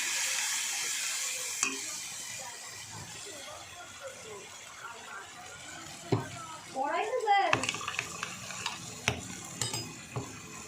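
Potato curry spices with ground cumin and chilli powder sizzle softly in a pan, with scraping stirs and a few metal clinks of the spoon against the pan, the frying steady and close throughout.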